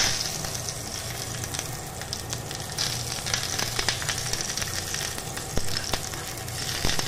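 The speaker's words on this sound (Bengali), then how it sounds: "রসুনটাকে একটু লাল লাল করে ভেজে নেব।" Two or three garlic cloves fry in oil alongside already-fried dried red chillies, giving a steady, close sizzle with small crackles and pops throughout and no talk.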